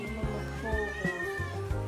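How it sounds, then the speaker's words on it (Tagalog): A cat meows in a long drawn-out wail, close and fairly loud, with faint low sounds beneath. "Eh dito yung naririnig ko lagad yung pusa"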